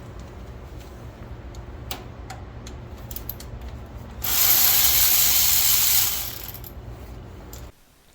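A hand ratchet removes the cover bolts on a Cub Cadet lawn tractor, with scattered clicks followed by a loud, rapid burst of ratcheting for about two seconds, then a few quieter clicks before it stops.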